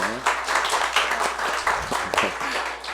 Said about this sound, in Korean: 우리 큰 박수로 한번 환영해 주실까요?